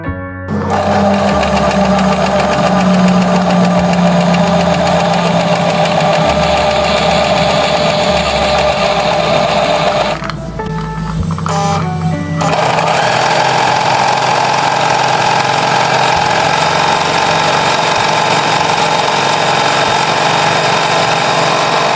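A Butterfly JH8190S portable electric sewing machine stitches white cloth in a loud, continuous rapid chatter, pausing briefly midway before running on steadily.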